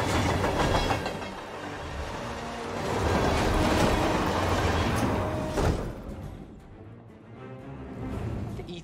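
In Hitman 3, a train rumbles along the tracks with a steady clickety-clack of wheels over rail joints, loud and continuous, with rattling carriages that fade briefly near the end.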